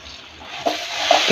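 Ground spices fry in a pan with salt, chili, turmeric and sugar and are stirred, giving a short bright sizzle with a few scraping stirs close by.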